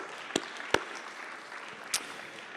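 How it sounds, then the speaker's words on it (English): Audience applause after a Shiv Jayanti drama performance, a broad steady wash of clapping with a few sharper claps standing out, moderately loud and sustained through the whole stretch. "Let's give her a big round of applause."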